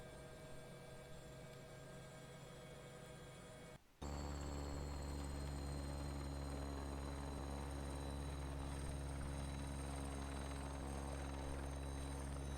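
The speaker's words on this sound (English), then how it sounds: "Yeah, so it's a neat helicopter, I must admit." A helicopter engine in the X-Plane 11 flight simulator gives a steady droning hum with a rotor whine. Partway through it cuts briefly, then comes back louder and fuller and holds constant to the end.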